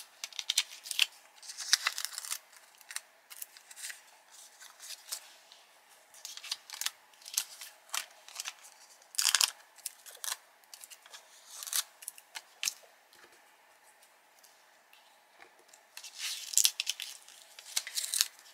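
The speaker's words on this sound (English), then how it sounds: "let me just peel these bits of tape off" Bits of tape are peeled off dark cardstock with quick, faint crinkling rips and taps, repeated in irregular bursts at close range without talking.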